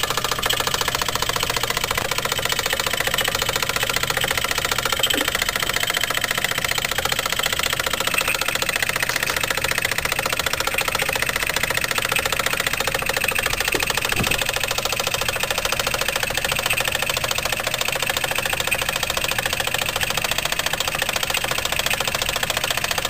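A Mamod SE2a model steam engine chugs steadily and continuously under a stiff generator load, a dense mechanical knocking and whirring that holds at one loud level throughout.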